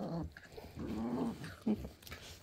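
A dog growls in low, rumbling bursts at close range indoors, with a brief sharper whimper-like sound near the end and no talking over it.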